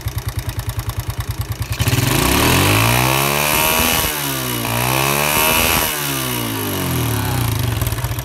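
A Yamaha Jupiter motorcycle with a weak battery, its engine idling in fast even pulses, then revved hard into a loud rising and falling whine that holds high, close by, with no talking.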